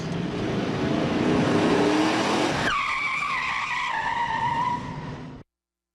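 A car in an accident recreation simulating high speed roars past with tires squealing, a loud rushing engine and skid sound that shifts abruptly in pitch midway, then fades out into silence.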